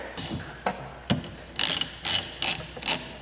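A ratchet loosens the wiper arm on a VW Touareg, giving sharp clicking bursts, a few sparse ones and then quicker, louder rasping strokes in a regular rhythm, with no talking.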